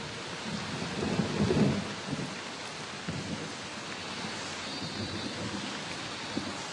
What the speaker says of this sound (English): The incessant rains of the monsoon are the last straw.